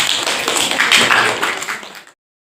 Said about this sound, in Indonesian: Berikan aplaus untuk Novel